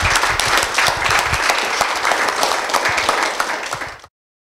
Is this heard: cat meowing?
no